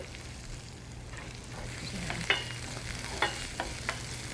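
Fennel and mushrooms cook in a little butter in a saute pan, a quiet, even sizzle with a few sharper pops and stirring clicks, close and with no talking.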